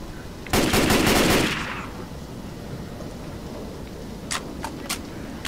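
A mounted gun fires in the Left 4 Dead 2 video game: one loud, rapid burst of about a second of automatic fire fades into a rumbling rain-like wash, and a few sharp single shots follow later.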